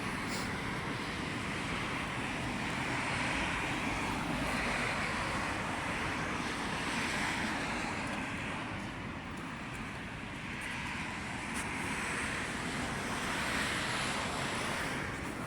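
Sea surf washing onto the shore, a loud steady roar with gentle swells and some wind buffeting the microphone, no talking.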